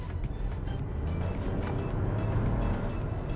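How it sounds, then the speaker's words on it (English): An SUV engine with a turbocharger drones steadily and loudly close by while revving, with a deep rumbling exhaust note and a faint high turbo whistle above it. "you hear the turbo whistle, you hear the engine revving, you hear the exhaust note"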